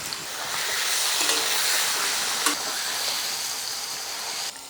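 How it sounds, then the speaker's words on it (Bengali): Paneer fries in oil with a steady sizzle, a continuous bright hiss that holds nearly level throughout, with a small pop midway and no voices. "এই আলু ভাজার তেলেই আমি পনিরগুলো ভেজে নেব"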